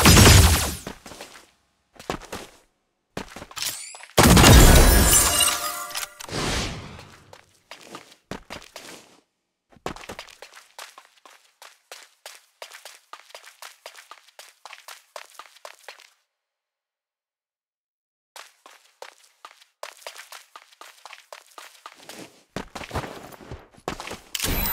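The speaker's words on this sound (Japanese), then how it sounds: "銃声よ。" Sharp bursts of video game gunfire crackle in clusters in Super Mecha Champions, with one loud dense volley early, then scattered lighter shots and gaps of near silence.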